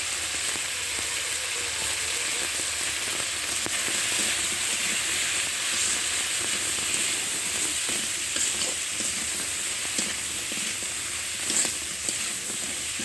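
Sundarbans crab and taro frying in a pan with turmeric and green chilli: a steady, dense sizzle and hiss that runs close and even throughout, with faint stirring scrapes and no talking.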